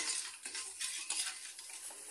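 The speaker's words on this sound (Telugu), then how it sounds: "ఇప్పుడు మనం ఇది పాకం వచ్చే వరకు కలుపుకోవాలండి." A spoon scrapes round a pot of sugar and water being stirred into a string-consistency syrup for gulab jamun, in regular strokes about twice a second over a steady hiss of the heating liquid, close and moderately loud with no talking.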